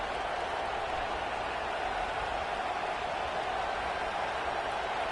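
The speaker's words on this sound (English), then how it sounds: "This crowd trying to do its part to get inside the kicker's head." A football stadium crowd roars in a steady, dense wash of cheering and noise while the field goal unit takes the field, continuous and even throughout.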